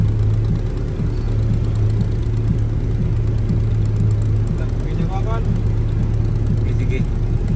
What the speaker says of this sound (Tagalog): Naririnig po natin yung tunog ng compressor.